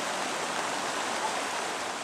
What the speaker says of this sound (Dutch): Dammen breken door en enorme hoeveelheden water stromen door de straten.